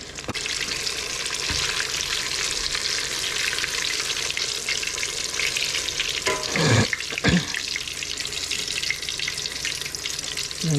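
Chorizo eggrolls frying in hot oil in a pot make a steady, loud sizzle with intermittent pops and a couple of sharper disturbances as pieces are moved, with no talking.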